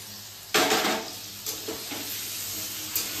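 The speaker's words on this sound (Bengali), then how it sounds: "তো আলুগুলো সুন্দর করে লাল করে ভেজে নেব" Potato pieces fry in a pan in a gentle sizzle, broken by a sharp clatter of stirring and several lighter scrapes against the pan.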